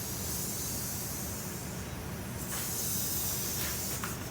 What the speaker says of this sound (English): Starting to drain now.